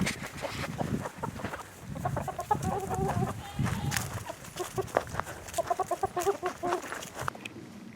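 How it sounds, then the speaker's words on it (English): Chickens cluck in a busy farmyard, their short, rhythmic clucks and calls rising and falling close by, with scattered squawks and no talking. "And now I got all the chickens following me."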